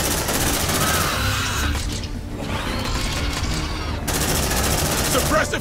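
Marines fire their guns in the sci-fi game Aliens: Dark Descent, a dense, loud stream of rapid automatic gunfire with game effects and mechanical clatter, pausing briefly in the middle before resuming at full intensity.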